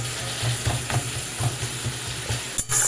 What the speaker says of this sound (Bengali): গ্যাসের আঁচটাকে বাড়িয়ে দিয়ে ভালোভাবে এটাকে একটু নাড়াচাড়া করে একটা গ্রেভি তৈরি করব।